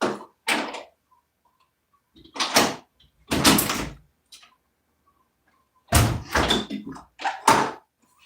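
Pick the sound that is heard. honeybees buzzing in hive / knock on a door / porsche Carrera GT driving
knock on a door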